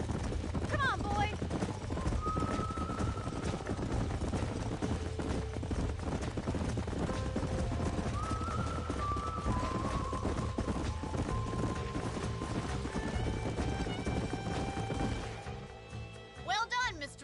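Horse hooves clip-clop steadily in Red Dead Redemption, a continuous close rhythm under game music, with people talking and a brief whinny near the end.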